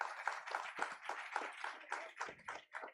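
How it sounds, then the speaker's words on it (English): A small audience at a learners' convocation claps for teams stepping forward, producing scattered, uneven hand claps that come in loose bursts, fairly close, with no voices over them. "Can we have a huge round of applause,"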